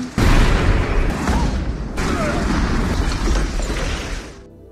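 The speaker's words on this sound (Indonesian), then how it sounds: "akibat dari ledakan itu Nick dan istrinya pun terluka parah" A loud, close blast erupts at the start, followed by a rumbling, crackling roar with debris-like clatter that slowly dies away.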